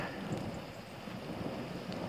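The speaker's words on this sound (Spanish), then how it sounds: "Día nublado y lluvioso, está lloviznando otra vez." Light drizzle on an overcast day at an industrial estate, a soft continuous hiss of rain with a low rumbling background and no voices.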